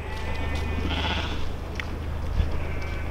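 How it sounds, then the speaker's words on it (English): A runaway sheep bleats near a narrowboat on the water, several wavering cries over a steady low engine-like rumble, with a brief thud near the end. "Oh, sheep."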